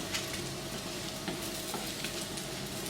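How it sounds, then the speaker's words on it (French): Chicken nuggets fry in oil in a pan while being turned, giving a steady crackling sizzle with small scraping stirs at moderate loudness and no talking. "On va les faire tourner pour que ça vienne vraiment prendre tout ce qu'il y a au niveau de la poêle."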